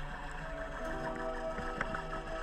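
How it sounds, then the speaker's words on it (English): A boat engine drones steadily overhead, heard faintly from underwater by divers on a reef, with muffled tonal hum and soft bubbling clicks. "It's always lovely to hear Matt's above us in the boat"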